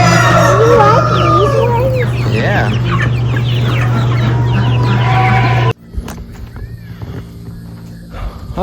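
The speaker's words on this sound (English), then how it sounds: "Yeah, all kinds of chickens." Chickens cluck steadily and roosters crow repeatedly in a busy, close farmyard chorus over a low steady hum; it cuts off abruptly near the end, leaving quieter background sounds and a brief spoken word.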